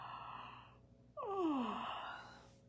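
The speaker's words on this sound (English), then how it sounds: "Can you yawn?" A single long yawn rises into a drawn-out, sighing exhale after a brief breathy start, close and soft, with no talking.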